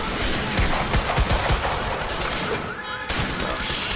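A dense volley of rapid gunfire in a game firefight rattles on without pause, loud and close, with overlapping shots filling the whole stretch.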